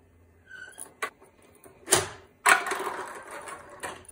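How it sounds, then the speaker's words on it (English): Inside a 3D-printed ping pong ball sculpture, a chain-driven lever pulls back a plunger on elastic bands and releases a ball, giving scattered mechanical clicks and clacks, a sharp knock and a short rattle, fairly quiet. "every time this comes around, it lifts this lever, pulling back this plunger connected by these elastic bands and releases a ball"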